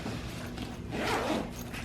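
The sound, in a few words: backpack zipper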